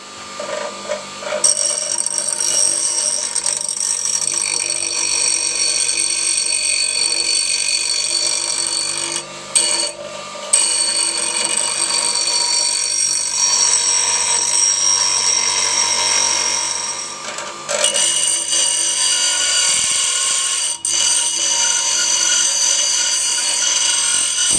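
Angle grinder disc grinding down a thick steel plate for a motorcycle heel plate, a loud continuous high-pitched whine held steadily for most of the time, with a couple of brief pauses and restarts.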